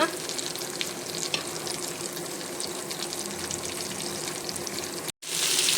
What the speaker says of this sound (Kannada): ಇವಾಗ ನೋಡಿ ಫ್ರೆಂಡ್ಸ್, ಇದು ಫ್ರೈ ಆಗ್ತಾ ಇದೆ